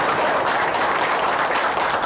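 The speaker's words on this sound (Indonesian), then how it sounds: "Bisa tepuk tangan buat istri saya?" Audience applause for the speaker's wife at a gathering: a dense, steady wash of many hands clapping, loud and continuous throughout, with no talk over it.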